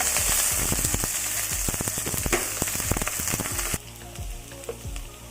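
Green chilli, garlic and onion dropped into hot oil crackle and spit with rapid loud pops, then settle abruptly into a quieter, steadier sizzle.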